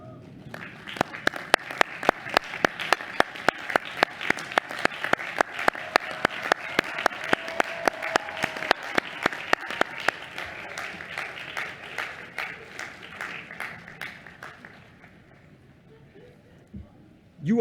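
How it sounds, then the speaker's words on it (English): A commencement audience stands and claps for the Colin Powell School 2022 graduates, heard as strong rhythmic clapping that keeps a steady pulse before thinning out and fading near the end. "please stand, turn towards them, and give them a round of applause"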